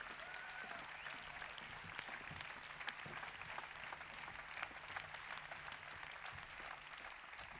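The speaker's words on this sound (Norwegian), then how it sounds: "Ekstra god applaus, de fortjener det." A hall audience at an end-of-season staff show for Larvik municipality employees gives steady, full applause, heard fairly distant and soft but continuous from start to finish.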